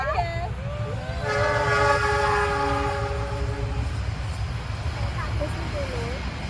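A train rumbles past nearby, its horn blaring a sustained chord for a couple of seconds over steady rolling noise; a voice speaks briefly.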